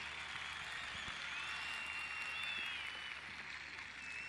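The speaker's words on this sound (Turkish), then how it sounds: "Alkışlarla uğurluyoruz kendisini." Steady applause from a festival crowd, dense and continuous without pause, heard at a moderate distance.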